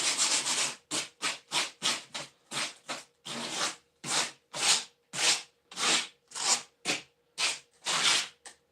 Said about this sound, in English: I just take a little bit of 40 grit and give it a quick little once over